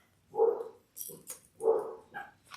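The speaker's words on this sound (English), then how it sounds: "My front door must be open and my dogs are barking." Dogs bark indoors as a front door stands open, two close, loud barks, each followed by a shorter yip, with brief quiet between.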